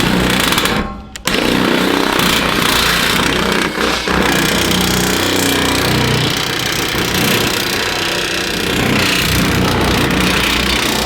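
A Makita LXT 18V cordless nibbler cuts steel sheet at two seams, a loud, close, continuous rapid chattering punch that runs nearly the whole time with a short pause near the start.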